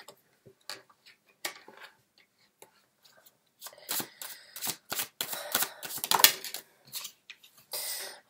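Tarot cards being drawn and laid out, heard as sparse light taps and soft card flicks that later become a denser run of crisp snaps and shuffling, close by and without talk.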